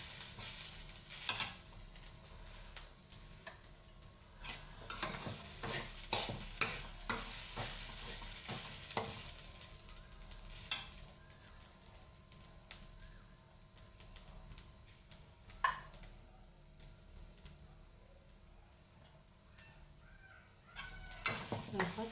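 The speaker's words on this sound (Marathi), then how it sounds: "गॅस थोडासा बारीक ठेवायचा. ह्याला परतायचं बघा." Grated coconut is stirred and sautéed in a pan over a low gas flame for coconut burfi, with soft scraping strokes and a gentle, quiet sizzle. Occasional sharper clinks come through, and there is no talking.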